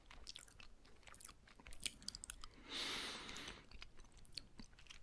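Close, quiet chewing of a Burger King Big King burger, with soft crunching bites and wet mastication sounds repeating irregularly in an otherwise silent setting.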